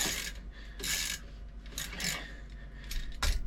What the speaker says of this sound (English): Tensioner pulley undone here. It's a 5/8. Should just loosen up just like that